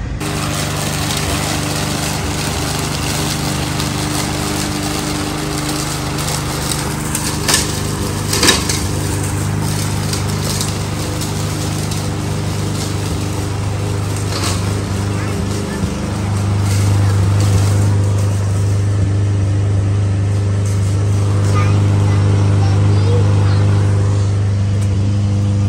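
A lawn mower runs through a steady, droning pass across a home lawn later in the day, its engine a continuous mid-distance hum with a slight rise in pitch and loudness toward the end.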